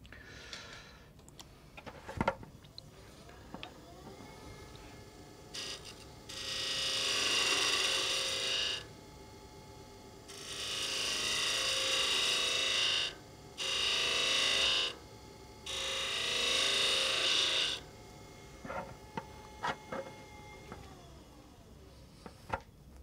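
A wood lathe cuts a Christmas candle holder in four separate bursts of rough, hissing cutting noise of a few seconds each, with quiet gaps between them and a few small clicks and knocks before and after.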